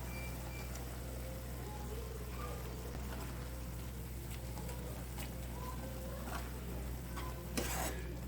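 Cooked moong dal, tomato and garlic being added to spinach in a pan and stirred, soft faint scraping and low sizzling under a steady background hum, with a brief sharper clink near the end.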